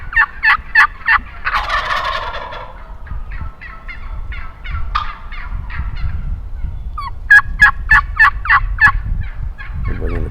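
Wild turkeys in a large flock gobble in loud repeated bursts outdoors, with a rough flurry of calls between volleys and more distant gobbles answering.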